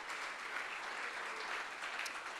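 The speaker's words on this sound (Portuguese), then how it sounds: "Dê uma grande salva de palmas para Jesus." A congregation applauds for Jesus during a church service, a dense, even patter of many hands clapping at a moderate distance with no speech, sustained throughout.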